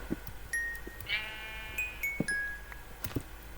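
Sheep in Minecraft give several short bleats at irregular intervals over soft clicks and taps from the game.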